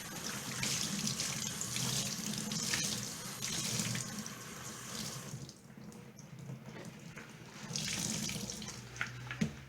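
Cold water runs steadily from a tap into a sink, a rushing splash that briefly softens and then surges again, close by, with no talking.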